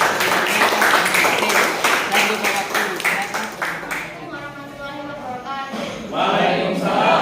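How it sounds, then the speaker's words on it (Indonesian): Primary school children in a classroom clap for a group presentation. Rapid, dense applause fades after about four seconds, then a voice speaks and another burst of claps follows near the end. "kita berikan tepuk tangan untuk pemaparan dari kelompok 1"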